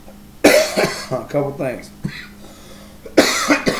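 Several sharp coughs from someone speaking, first a burst of coughing and later another cough, close and loud, with her talking between them.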